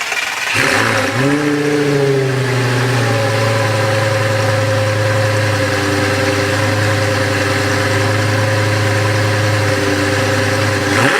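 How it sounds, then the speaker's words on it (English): A 2004 Lamborghini Gallardo E-gear with a 5-liter V10 starts up with a brief rising flare, then settles into a steady, loud, even idle hum that holds unchanged. "On the rear of the Gallardo here, you're going to find the 5-liter V10 engine"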